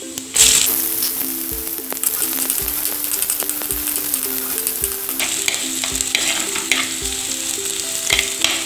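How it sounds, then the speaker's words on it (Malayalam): Mustard seeds and chilies splutter in hot coconut oil, a steady close-up sizzle with sharp pops scattered throughout and a few louder bursts, all with no talking. "ഞാൻ അതിലേക്ക് കടുകും മുളകും പൊട്ടിക്കുകയാണ്"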